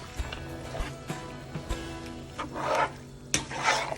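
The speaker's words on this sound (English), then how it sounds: "I'll stir this in." A spoon stirring Nigerian egusi soup in a pot with the heat switched off, making soft scraping and thick, wet stirring sounds with a few sharp knocks against the pot and light background noise.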